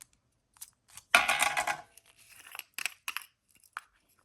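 A strip of tape is ripped off an Amazon cardboard package in one loud, rough burst about a second long. Shorter crinkles and rustles of the packaging follow close by, with no talking.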